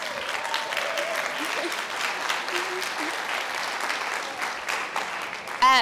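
Audience applause at a talk on the information industry, steady dense clapping from a room of people lasting several seconds, with a brief voice near the end.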